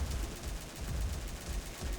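Rapid bursts of automatic gunfire from the XSHOT shooter game, firing with the Greedy Wolf gun, a dense continuous rattle of close shots with no talk over it.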